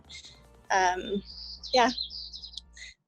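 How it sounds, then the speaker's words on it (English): Birds chirp and tweet in high, quick bursts. Talk runs over most of them, and a short run of clear chirps comes through near the end. "I love the fact that there are birds like chirping in the background."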